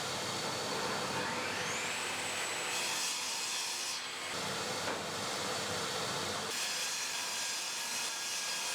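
Table saw ripping plywood cleat pieces against the fence, a continuous bright whine and hiss of the blade through wood, with brief dips between passes, moderately loud and without talk.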